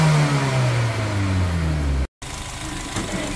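A tuned engine revs up and then winds down with a falling pitch, loud and close, followed by a brief dropout and a steadier idle with no talking.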